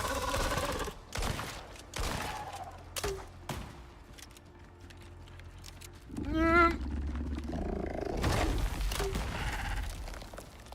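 Trench shotgun blasts in the survival game Icarus, several sharp, loud shots spaced irregularly over a low ambient drone, with a bleating animal cry midway and other in-game clatter.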